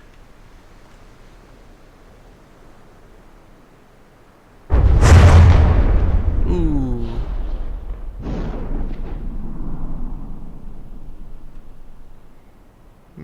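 Ships colliding in the naval battle game From the Depths, with a Titanic ramming the SS Great Eastern, set off a sudden loud explosion that roars for several seconds and is followed by a second burst and rumbling debris, with one brief exclamation.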